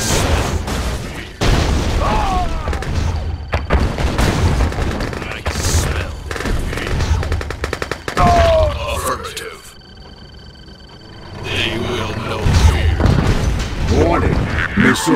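Missile launches and explosions in the real-time strategy video game Command & Conquer come as a busy battle din of rapid blasts, booms and gunfire, near and loud, with brief voiced unit lines and a short lull midway.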